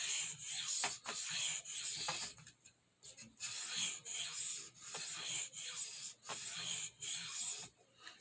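A large Stockman knife is drawn over a soft Arkansas oilstone in steady, repeated rasping strokes, roughly one per second with brief pauses between passes, close and clear with no talking.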